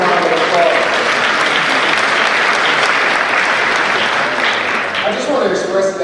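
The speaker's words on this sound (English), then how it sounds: "Please give him a round of applause." A graduation ceremony crowd gives a round of applause for a former band director, loud and sustained clapping that fills the whole stretch with little letup.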